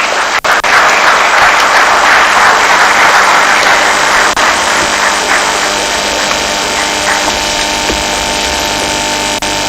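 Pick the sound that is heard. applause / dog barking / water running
applause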